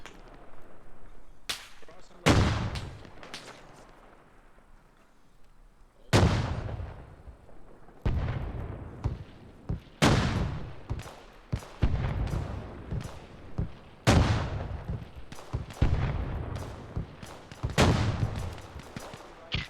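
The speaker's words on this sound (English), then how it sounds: "Keep hitting that tree line with those mortars" Mortar rounds fired and landing in Arma Reforger, a series of sharp booms in irregular clusters, some near and loud, others softer, with brief quiet stretches between volleys.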